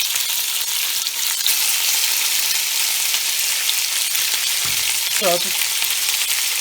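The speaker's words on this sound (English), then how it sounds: "So I'm going to start browning the pork a little at a time." Pork browning in a pan of bacon fat and high-temperature avocado oil for stovetop chile verde, a steady loud sizzle and fry throughout with a brief stir or scrape near the end.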